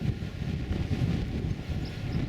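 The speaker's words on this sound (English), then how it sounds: "Oh, suddenly it's very windy." Strong wind buffets the microphone on an open moor, a continuous low rumbling roar with gusty fluctuations and no voices.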